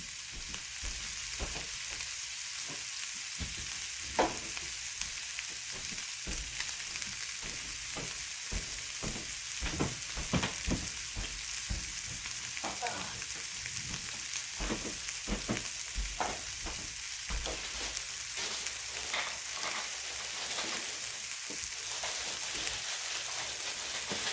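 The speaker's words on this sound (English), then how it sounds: "We'll just let those saute a little bit more. Get a little more cooked up." Food sautés in a hot pan at home, a steady loud sizzle and hiss running throughout, with scattered clicks and scrapes of stirring.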